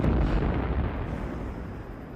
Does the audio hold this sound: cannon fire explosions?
yes